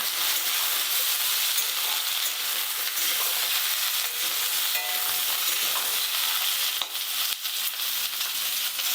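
Drumstick vegetable pieces frying in a pan, giving a loud, continuous, crackling sizzle that stays even throughout, with a few faint knocks of stirring near the end.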